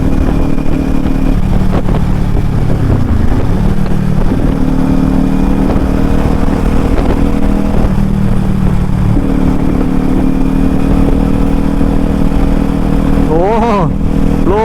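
Kawasaki Ninja 400 motorcycle being ridden, its engine droning steadily with shifting pitch and brief revs, wind and road noise throughout, while a rider talks over it.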